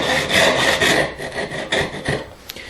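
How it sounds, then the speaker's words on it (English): A hand saw cuts a 45-degree angled line through wood while shaping a tenon. Steady, close rasping strokes repeat in a quick back-and-forth rhythm with no talking. "I'm just going to make a 45-degree"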